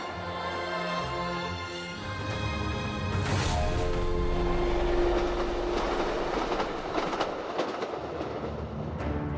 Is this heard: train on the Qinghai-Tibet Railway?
yes